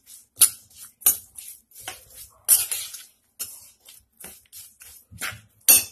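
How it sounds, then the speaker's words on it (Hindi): A spoon stirs green chillies into an amla (Indian gooseberry) pickle, making close, irregular clinks, taps and scrapes against the bowl in short bursts with brief pauses, and no voices. "अब इसमें हम डालेंगे हरी मिर्च, पहले हम इन्हें मिक्स करेंगे।"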